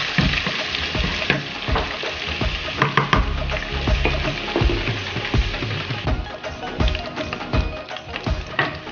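Onions fry noisily in a pan for Patiala chicken, a steady dense sizzle with occasional stirring scrapes and clinks, close and continuous.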